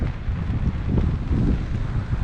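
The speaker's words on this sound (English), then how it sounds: "I'm going to keep the camera underneath here because it's freaking windy" Strong wind on Caister beach on the east coast buffets the microphone with a steady, loud low roar and no pauses.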